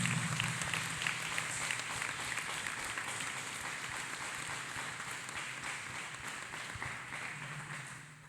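A church congregation claps hands together in sustained, dense applause filling the whole stretch, loud and steady with a broad crowd wash that tapers slightly toward the end.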